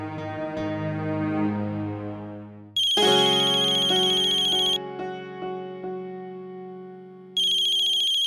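A phone ringtone sounds for an incoming call in a family home, a loud melodic tune repeating in bright chimes over several seconds with no talking.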